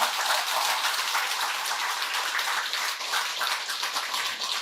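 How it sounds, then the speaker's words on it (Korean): Audience applause fills a Buddhist temple's arhat eye-opening ceremony at Daewoonsa, a steady dense clapping that holds at an even level from start to finish with no speech over it. "박수 부탁드립니다."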